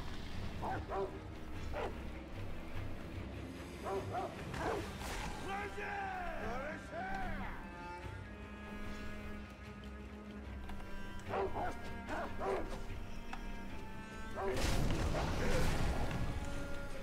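Dog barking in the Sekiro video game, several short barks and yips scattered among game music, effects and a player talking over it, with a loud burst near the end.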